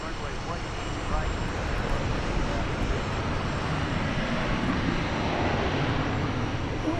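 A US Airways Heritage livery airliner at DFW Airport gives a continuous broad jet engine roar that holds steady and fairly loud throughout, with voices faintly mixed in.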